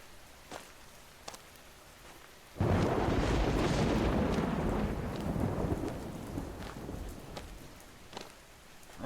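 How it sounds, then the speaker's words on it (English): Rain and thunder in a horror video game: steady rain hiss with a sudden loud, broad thunder crash that rolls and slowly fades back into the rain, with no talk over it. "Rain effect's a little rough,"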